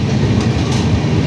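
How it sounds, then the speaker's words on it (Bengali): Inside the Sealdah to New Delhi Rajdhani Express, the train rumbles steadily at speed while overtaking the Mayurakshi Express near Bardhaman, a loud, continuous roar with faint wheel rhythm and no speech. "ময়ূরাক্ষী এক্সপ্রেসকে কিন্তু আমরা ওভারটেক করছি এই মুহূর্তে বর্ধমানে"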